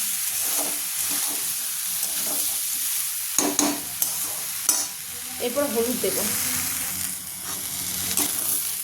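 Khichuri fries and is stirred in a pressure cooker, with a steady close sizzle and intermittent scraping stir strokes. A voice speaks briefly partway through.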